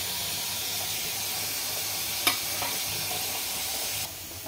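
Okra fry with ginger and green chili paste stirred in a hot pan, a continuous hissing sizzle with a sharp scrape of the spoon partway through, close and fairly loud, with no talking.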